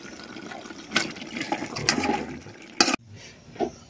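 Water is poured into a kadai of cooked chicken curry, giving a gushing, splashing pour with a few sizzling bursts that stops abruptly near the end, followed by faint kitchen noise.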